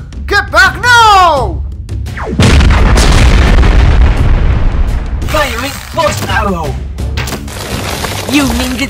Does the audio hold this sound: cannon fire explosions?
yes